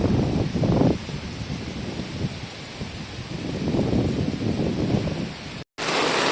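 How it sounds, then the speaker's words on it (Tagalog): Heavy rain and gusting wind from Super Typhoon Yagi lash Macau in a steady roar, with swelling low rumbling gusts and a brief dropout near the end. "Lakas ng ulan."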